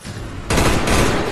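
Gunfire from a weapon in Black Ops zombies on the Kino der Toten map, a sudden loud close burst that starts partway in and continues to the end, with no talk.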